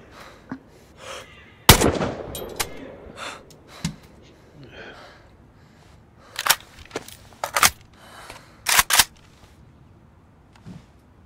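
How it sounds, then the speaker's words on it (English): Gunshots fired at zombies in DayZ: a loud single crack, then scattered sharp shots and quick bursts later on, with breathy vocal sounds in between. "I'm just shooting Zeds for..."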